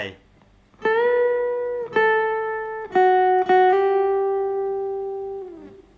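Acoustic guitar phrase from a song, played solo: a few plucked notes with a slide between them, each ringing out clearly and sustaining, close and loud with no talking.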